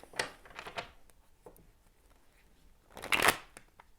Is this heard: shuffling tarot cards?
yes